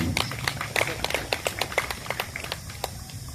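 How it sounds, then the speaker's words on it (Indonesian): Scattered, subdued applause from an audience at a monument inauguration at a heroes' cemetery in Mamasa: sparse, uneven individual claps at a distance rather than a full ovation. "Tepuk tangannya kurang meriah karena belum tahu proyek yang dibawa Presiden"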